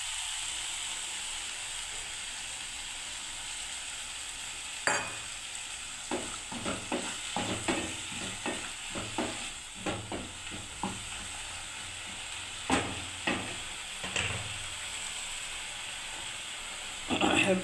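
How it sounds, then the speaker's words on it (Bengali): A pan of paneer curry sizzles and hisses continuously on a gas stove, with a series of sharp clatters and scrapes from stirring scattered through it, moderately close and without speech. "এবার আমি বন্ধুরা একটু জল ঢেলে দিচ্ছি"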